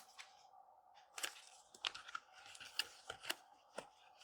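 Unboxing a zirconium UFO-shaped haptic coin metal toy: a quiet series of sharp crinkles, cracks and tearing snaps from the packaging, spaced irregularly and close to the microphone.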